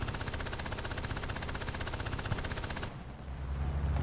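Rapid sustained bursts of .50 cal machine-gun fire in the War Thunder video game, loud and continuous, then a heavy engine rumble takes over near the end.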